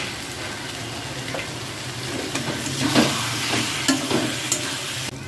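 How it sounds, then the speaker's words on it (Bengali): Bengali spicy eggplant mash frying on a high gas flame while being stirred, a continuous sizzle broken by repeated scraping strokes of a spatula against the pan. "আবার নাড়িয়ে দিয়ে তলটা ভালো করে আবার এটাকে ভাজতে হবে"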